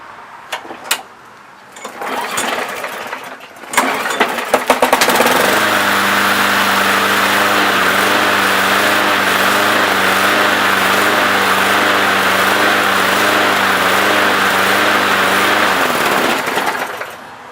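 A lawnmower under repair, with a loose-mounted engine, clatters through a few rough pulls before catching, then runs steadily and loudly at a constant pitch for about eleven seconds before cutting off.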